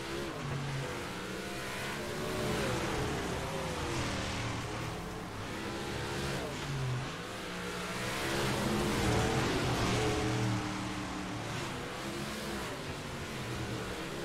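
Dirt late model race cars accelerate hard at Fairbury, a steady engine roar that rises and falls as the pack passes, loud and sustained throughout with no voices.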